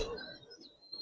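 A Giribaz pigeon gives a short, soft coo, faint and close, with a brief throaty rise at the end.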